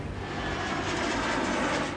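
Engine of an Army Embraer aircraft flying to Sulur airbase in Tamil Nadu: a steady, loud airplane roar that swells slightly toward the end, with no talking.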